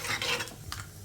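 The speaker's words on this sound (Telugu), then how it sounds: "ఈ పోపు దినుసుల్ని మీడియం ఫ్లేమ్లో మంచి కలర్ వచ్చే వరకు ఫ్రై చేసేసుకోవాలి" Tempering spices and lentils fry in a pan over a medium flame, giving a soft, close hiss of sizzling oil broken by scraping stirs against the pan, with no voices heard.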